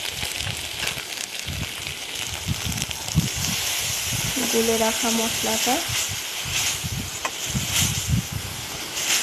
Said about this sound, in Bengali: একটু ভাজা ভাজা করে নেব মশলাটার সাথে